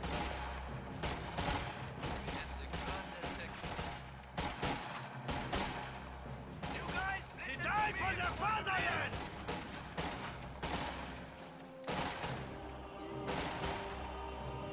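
MG-42 machine gun fire in a World War II strategy video game: bursts of gunfire and scattered distant shots rattle through the battle ambience while a commentator talks over them.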